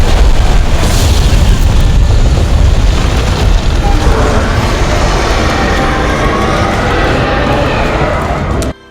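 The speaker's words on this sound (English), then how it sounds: "Shaba Ishvalda can use his air geysers to create a massive spirit bomb whenever the sands are in place, creating a massive explosion." A massive spirit bomb explosion from the elder dragon Shara Ishvalda in Monster Hunter, a loud, sustained, roaring blast and rumble that fills the whole span before cutting off abruptly at the end.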